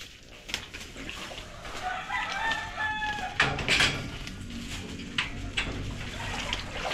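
Backyard chickens crow and cluck around a flooded house, a rooster's call rising mid-clip among scattered clucks over a faint wet, watery background.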